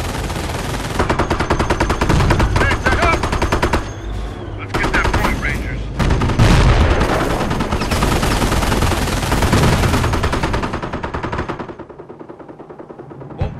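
Gunfire from the World War II strategy game Company of Heroes during the Normandy invasion at Cherbourg: loud, dense machine-gun bursts and rifle shots rattle almost continuously, then thin out toward the end, with radio-style voices faintly mixed in.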